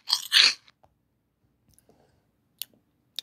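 A burger is bitten and chewed up close: two loud crunchy bites at the start, then faint chewing sounds and a couple of small clicks in near silence.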